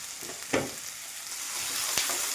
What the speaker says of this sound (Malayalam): കിഴങ്ങ്, കരിവേപ്പില, പച്ചമുളക് എന്നിവ ചേർത്ത് നന്നായിട്ട് ഇളക്കാവേ.